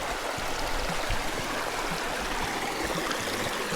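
A cold mountain creek in the Belly River area of Glacier National Park flows in a steady, close rush of water that carries on without a break for several seconds, with no voices.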